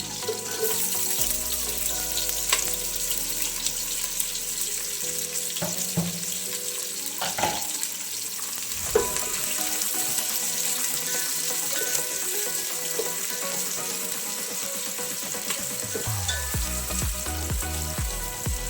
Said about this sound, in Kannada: ಒಂದು ದೊಡ್ಡ ಈರುಳ್ಳಿಯನ್ನು ನಾನು ಕಟ್ ಮಾಡಿ ಇಟ್ಕೊಂಡಿದ್ದು ಹಾಕ್ತೀನಿ.